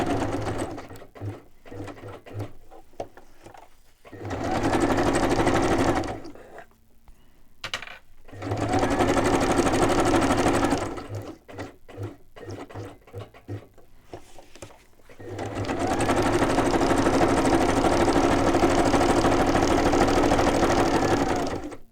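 A sewing machine stitches decorated fabric pieces together, running in three loud sustained bursts with short pauses and quieter handling between them; no voices.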